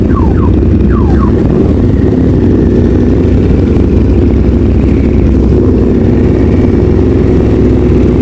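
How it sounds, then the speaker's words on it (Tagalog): A car alarm sounds in a Makati street, loud and continuous with a few short chirping tones at the start, over a dense bed of engine and traffic noise. "Ayun, nag-alarm na."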